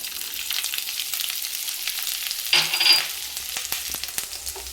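Black cumin seeds and a little grated ginger fry and sizzle in hot oil in a pan, a steady close hiss with a louder burst of spatter and stirring scrapes partway through, no voices.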